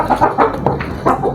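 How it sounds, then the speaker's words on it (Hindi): Roosters fighting among chickens in a backyard coop, with loud, close clucking and squawking bursts coming in a quick, irregular series over a short span. "लेकिन ये मुर्गा और वो मुर्गा बहुत ज़्यादा लड़ रहे हैं आपस में।"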